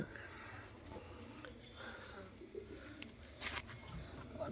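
Pigeons in a loft where the hens are carrying eggs, giving soft, close cooing in a low rumbling murmur that runs steadily through the scene, with brief louder calls and fluttery bursts near the end.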